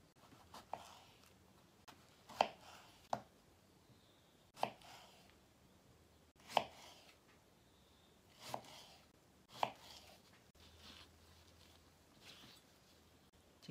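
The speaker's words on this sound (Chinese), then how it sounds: "我们要把它切成条，镶在西瓜缝隙里。" A knife chops through watermelon into strips on a cutting board, landing in sharp separate strokes at irregular intervals, close and clear against a quiet room, with no talking.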